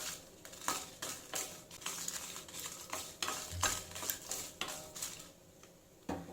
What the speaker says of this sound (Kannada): ಲೋ ಫ್ಲೇಮಲ್ಲಿ ಎಲ್ಲ ಡ್ರೈ ರೋಸ್ಟ್ ಮಾಡ್ಕೊಳ್ಳೋಣ.